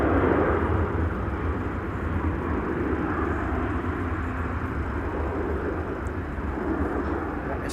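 A Transavia airliner climbs out from Amsterdam Schiphol, its jet engines producing a steady, broad rumbling roar that holds at moderate loudness from a distance with little change throughout.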